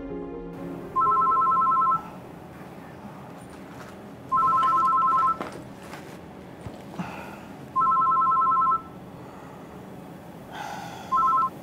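A telephone ringtone sounds in four repeated electronic bursts, each about a second long with pauses between, over quiet background room noise.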